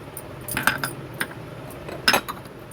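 Urad dal bhaji batter with soda, asafoetida, turmeric and salt being stirred in a bowl, giving a few light metallic clinks and taps of a spoon against the vessel, scattered and close with quiet gaps between.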